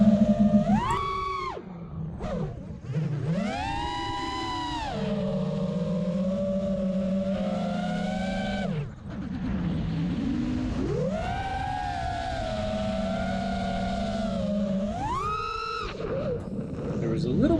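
An FPV quadcopter with 2207 motors on a Karearea frame screams at full throttle, the high whine sweeping up and down in pitch with repeated surges, loud and close throughout.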